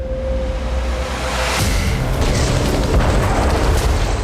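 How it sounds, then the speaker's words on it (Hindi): An artillery strike blows up a Russian military vehicle at night: a dull boom hits about a third of the way in, followed by sustained, loud, rumbling blast noise and debris roar with no voices. "रात के वक्त ड्रोन ने रूसी सैन्य वाहन की पहचान की, जिसके बाद इसे आर्टिलरी से उड़ा दिया गया।"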